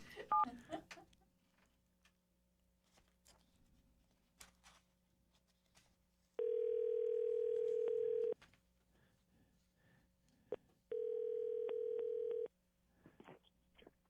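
A telephone dial tone sounds on a new phone system, two steady tone blocks of about two seconds each separated by a short gap, loud against a quiet line with faint clicks and brief noises around them.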